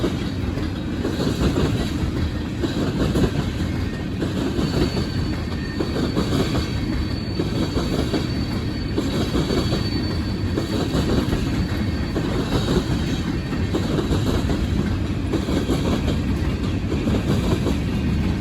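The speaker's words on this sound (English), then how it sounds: "The next train today would be loaded grain train G134 from Columbus, Ohio to the grain elevator" A CSX freight train rumbles past up close in Deshler, Ohio, a loud continuous roar with rhythmic wheel clatter and occasional squeal, no voices.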